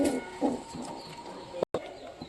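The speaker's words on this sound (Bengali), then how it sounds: "সব কবুতর ডাকাডাকি করতেছে" Pigeons cooing in a loft where birds sit brooding eggs, low repeated coos in short bursts at close range, one briefly cutting out partway.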